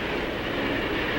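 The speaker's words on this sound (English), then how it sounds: "It rolls smooth, fast over miles and miles of new ribbon rail, welded rails that are easy on your products." Freight train rolling smoothly over long welded ribbon rail, a steady broadband rumble and roar with no gaps, heard briefly at moderate loudness.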